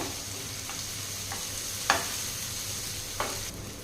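Chopped tomato is being stirred into onions sautéing in a pan, giving a steady close sizzle broken by a few sharp scrapes of the spoon against the pan, with no talk.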